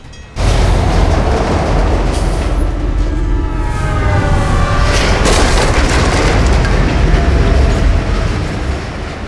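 In the video game Alpha Protocol, a train roars past, a loud, continuous rushing rumble with rattling wheel noise that swells in abruptly and stays heavy for several seconds.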